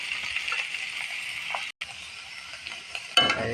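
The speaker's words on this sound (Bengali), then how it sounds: "এখন আমি শাকটা দিয়ে দিলাম।" Leafy greens are tossed into a pan of fried onion and a little oil, sizzling steadily and close up, with a brief dropout midway and a louder burst of crackling near the end.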